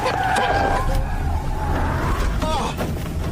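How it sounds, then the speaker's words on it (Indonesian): A car swerving in a film scene, with engine and tire noise plus sharp chirps and bursts of commotion throughout, mixed with a voice. "Seketika mobil oleng."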